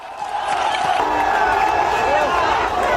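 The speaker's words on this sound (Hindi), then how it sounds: "भीड़ तालियां बजा रही है, भीड़ जश्न मना रही है।" A large celebrating crowd at a political event in Bangladesh roars continuously, loud and dense with cheering, scattered clapping and shouting voices throughout.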